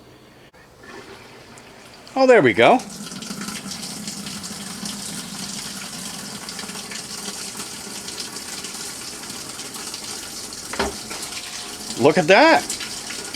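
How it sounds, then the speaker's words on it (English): Water gushes from a garden hose into a washing machine set up outdoors, a steady rushing hiss under the whole stretch, with a person briefly exclaiming near the start and again near the end. "The main focus we have right now is just to see the water come on."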